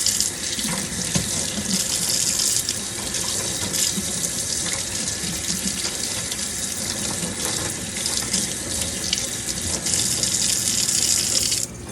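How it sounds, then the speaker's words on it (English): Water from a kitchen sink faucet runs over smoked scallops or shrimp to rinse off black pepper. It makes a steady, loud, close hiss and splash that barely changes for the whole stretch. "So I'm going to run them over here and rinse them off."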